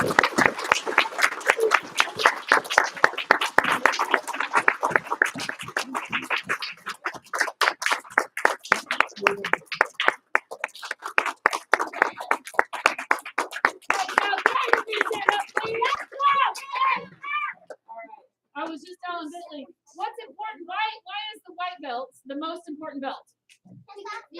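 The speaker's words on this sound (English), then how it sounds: "Give him a big round of applause." A small group claps steadily for a student earning a white belt in a basic martial arts class; the clapping thins out midway and then a voice talks alone.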